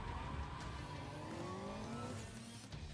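A car drives in Cyberpunk 2077, its engine whining and shifting pitch steadily at close range for a few seconds, with no talk.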